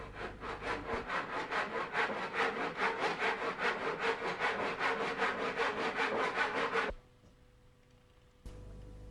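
Hand saw cutting wood to size for a miter joint, steady rhythmic back-and-forth strokes, close and loud, for about seven seconds before stopping, followed by quiet.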